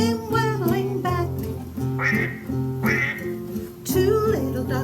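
A voice sings a quacking duck imitation in a children's song, rhythmic repeated quacks over a musical backing, loud and close.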